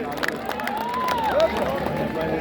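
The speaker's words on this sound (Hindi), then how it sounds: "तालियां शोर।" Audience applause fills the hall at the Arts Council Karachi closing ceremony as a steady, dense wash of clapping and crowd noise with voices mixed in throughout.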